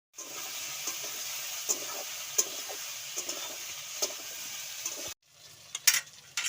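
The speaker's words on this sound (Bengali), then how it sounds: "এবার কচুরলতিটা দিয়ে দেবো।" Taro stolons sizzle and crackle as they fry in hot oil in a pan, with a steady frying hiss broken by scraping stir strokes, then a brief pause before the sizzling resumes close by.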